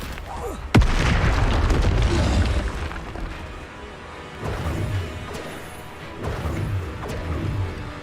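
Explosive spell blasts in Hogwarts Legacy, a sharp, loud detonation followed by rumbling booms and further thuds that come in spaced bursts, with a voice speaking over the action.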